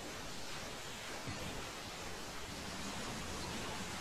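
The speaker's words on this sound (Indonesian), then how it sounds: "Suara hujan yang terdengar cuma." Steady, dense hiss of heavy rain fills the whole stretch evenly, loud and unbroken, with no voices over it.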